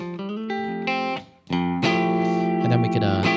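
Guitar in FACGCE open tuning playing a rhythmic riff built on a chord, bright ringing strummed notes with a short pause before the pattern resumes louder, close and clean.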